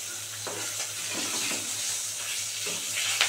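Bata fish fries in a pan with a steady, bright sizzle, broken by a few soft scraping stirs and turning sounds as the fish is flipped over; no one speaks.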